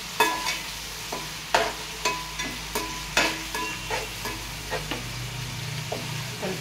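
Biryani masala is stirred in hot oil for a Hyderabadi chicken dum biryani: a close, constant sizzle punctuated by rhythmic spoon scrapes and knocks against the pan, about two strokes a second, with no talking.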